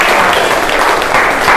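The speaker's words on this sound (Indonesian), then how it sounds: "tepuk tangan dulu buat Rafif dong." Applause from a classroom of students, a steady dense patter of many hands clapping close by, filling the whole short stretch without pause and with no talking over it.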